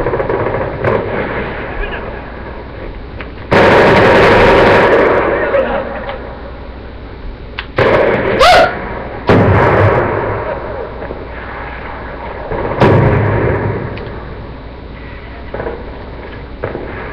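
Light machine gun fire in Call of Duty: Black Ops II team deathmatch on Turbine, with loud bursts of game gunfire and explosions erupting repeatedly between quieter stretches of game noise.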